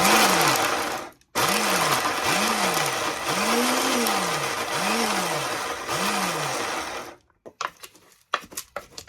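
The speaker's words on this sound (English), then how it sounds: "We're gonna blend everything nicely using the pulse method." A blender grinds masala spices, cardamom among them, in repeated short pulses: five loud whirring bursts that rise and fall in pitch, separated by brief pauses, then stopping into quiet rustles and clicks.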